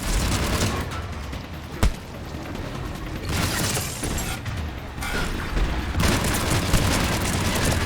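Sustained gunfire in Mass Effect, laid down as covering fire, keeps up in heavy continuous bursts with booming impacts and one sharp crack, with no pause anywhere.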